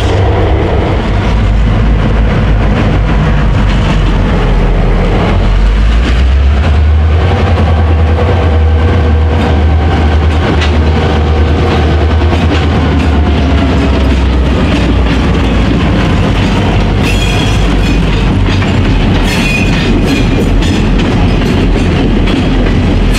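A freight train on the South Shore line rolls steadily past the Gary Depot, a loud continuous rumble with deep engine drone and rhythmic clickety-clack of wagons throughout, close by and with no talk.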